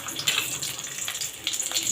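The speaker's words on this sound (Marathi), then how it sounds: "आपण यामध्ये आलू तळून घेणार आहोत" Potato pieces frying in hot oil in a kadhai, giving a continuous close sizzling hiss with small crackling pops throughout.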